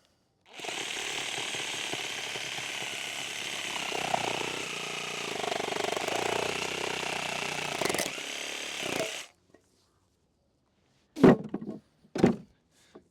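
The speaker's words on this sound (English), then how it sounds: "I'm going to have to cut these. Let me go get the saw." Hand saw cutting untreated wood on an allotment, a continuous rasping stroke sound for about nine seconds, followed by a couple of sharp knocks after a pause.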